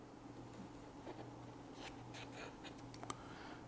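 A marker pen traces a cut line around the shoulder of an airframe tube from an FAI model rocket starter kit, giving faint, intermittent scratchy strokes over a quiet room hum.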